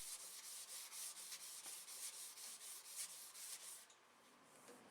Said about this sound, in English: so I hand sand them to take that sharpness off and make it more comfortable to hold.